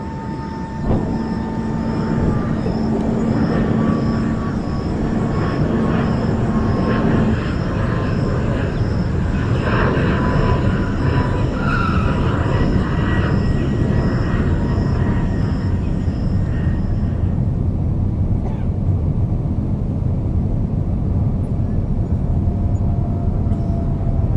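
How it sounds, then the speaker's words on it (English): A C-130 transport aircraft touching down on a runway makes a loud, steady engine roar that drones on throughout and eases slightly toward the end. "now you're seeing the C-130 aircraft touching down on the runway"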